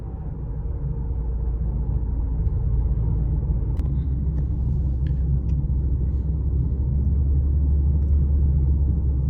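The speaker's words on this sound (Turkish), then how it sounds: "Araçla gazladığınız zaman motorun turbo sesini biraz içeride duyabiliyorsunuz." Heard from inside a Mercedes GLB200 4MATIC with a 1.33 turbo engine, a steady low engine and road rumble builds gently as the car accelerates at around 90 km/h, with a few faint clicks and no talking.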